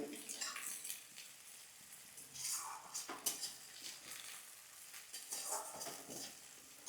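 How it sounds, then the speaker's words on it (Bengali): Chopped onions frying in a pan for Bengali fish-head muri ghonto, a soft sizzle with intermittent stirring scrapes and clinks of a spatula against the pan. "এই জন্য পেঁয়াজটাকে খুব ভালো করে ভাজতে হবে"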